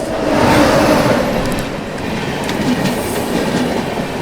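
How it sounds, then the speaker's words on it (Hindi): Patna Tejas Rajdhani Express (12309, Rajendra Nagar–New Delhi) rushing past a railway crossing, a loud continuous roar of wheels and clattering carriages close by, with faint squeals throughout. "ये रही दोस्तों अपनी पटना तेजस राजधानी एक्सप्रेस।"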